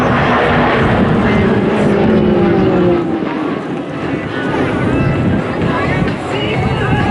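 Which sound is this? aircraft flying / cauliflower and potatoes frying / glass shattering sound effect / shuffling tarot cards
aircraft flying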